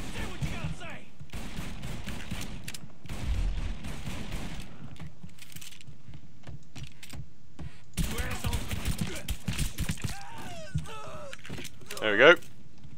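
Enemy gunfire in Mafia III: scattered bursts of rapid shots and fusillades, some close and loud, interspersed with game sounds while someone talks at intervals.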